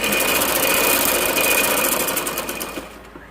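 A sewing machine stitches along a fabric cord for loop dori, a loud, close, continuous mechanical whir that holds steady and then slows and fades as the machine stops.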